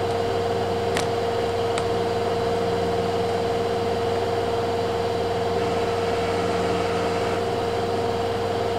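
Kenmore front-load washing machine made by LG, with a quiet inverter motor, in its spin cycle at about 1150 RPM: a steady, even drone and hum with a faint whine, running continuously and alone, with no talk.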